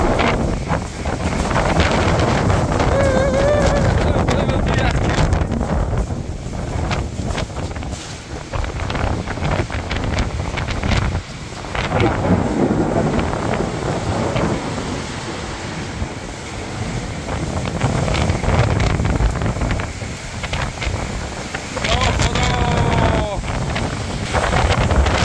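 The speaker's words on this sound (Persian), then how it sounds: "طوفان شدید گوسفندان هم گرفتار شده" A severe storm wind roars continuously around a rural Iranian village, loud and buffeting the microphone, with gusts rising and falling.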